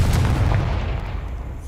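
Confringo spell explosion in a Harry Potter video game, a short deep booming blast with rumbling low-end decay lasting under two seconds.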